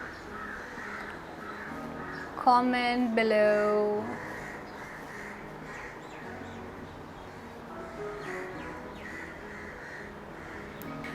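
A crow caws in a short burst of harsh, repeated calls that are loud and nearby, then a few fainter caws later, while someone talks steadily throughout.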